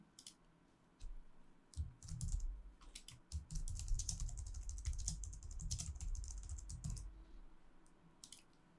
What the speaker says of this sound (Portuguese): sobre ela digitar qualquer comentário necessário